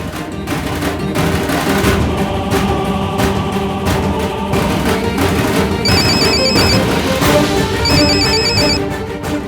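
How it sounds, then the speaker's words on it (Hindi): A mobile phone rings loudly in a tense drama scene, its repeating electronic tone pulsing in two bursts over a dense background music bed. "और अब उसका फोन बजेगा।"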